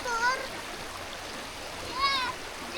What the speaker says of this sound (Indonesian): sungai kecil berbatu dengan aliran air yang cukup jernih